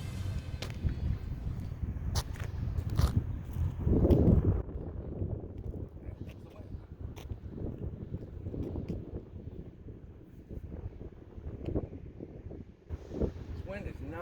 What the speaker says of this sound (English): This wind is non-stop.